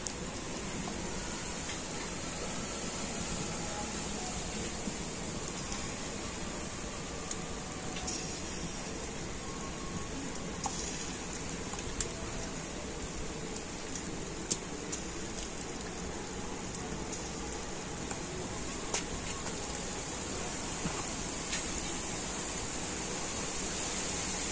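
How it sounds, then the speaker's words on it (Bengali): Ripe jackfruit batter fritters fry in medium-hot oil, giving a steady, dense sizzle like rain, with small crackles throughout and no talk. "আর এখন আমি এই মিশ্রণ থেকে অল্প অল্প করে নিয়ে তেলের মধ্যে দিয়ে দেব।"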